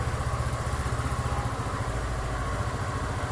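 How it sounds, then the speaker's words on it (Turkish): Steady rhythmic idle of an Altai Ristretto 125 fuel-injected scooter engine, close and even, a low fast putter with a continuous mechanical hum and no talk. "Motorun size ben sesini de bir dinleteyim. Motor enjeksiyonlu."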